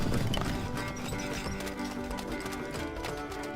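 Horse hooves clip-clop in the medieval strategy game Stronghold Legends, a steady patter of small clicks layered over constant game music and ambience.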